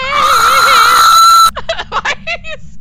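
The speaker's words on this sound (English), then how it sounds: "Why are you screaming?" A person screams during a Phasmophobia ghost-hunting game, a loud wavering high-pitched shriek lasting over a second, then cut off and followed by short choppy vocal bursts.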